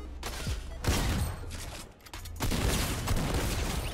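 Shotgun blasts and combat noise in Fortnite, heavy booming shots in two loud bursts separated by a short lull, with no voices over them.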